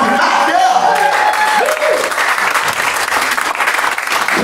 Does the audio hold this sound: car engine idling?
no